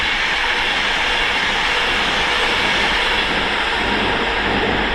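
A train speeds through Stafford station on the West Coast Main Line, a loud, steady rushing roar of wheels and air at close range with no break in the noise.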